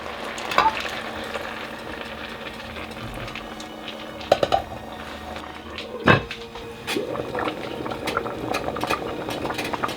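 Coconut-milk swamp stew with garlic and herbs being stirred in a pot, a steady bubbling simmer with a few sharp clinks and knocks of the spoon against the pot, close and unaccompanied by talk.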